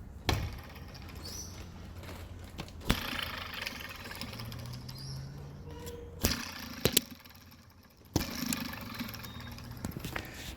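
A worn-out idler pulley from a Ford BA BF Falcon spins with a faint, rough mechanical whirring and creaking, broken up by a few sharp knocks and clunks.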